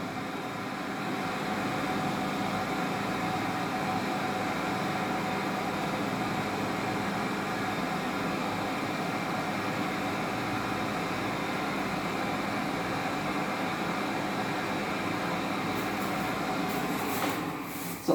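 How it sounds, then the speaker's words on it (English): Hand dryer blowing a steady, loud stream of air for the whole stretch, a constant broadband whoosh with no talk, cutting off near the end. "Followed by hand drying using a hand dryer."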